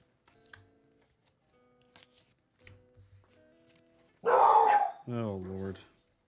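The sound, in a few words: protective dogs barking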